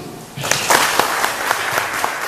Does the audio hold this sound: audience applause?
yes